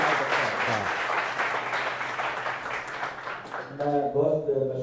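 Seated audience of senior citizens at a comedy event claps for a performer, a moderate burst of applause that tapers off near the end as a voice begins speaking.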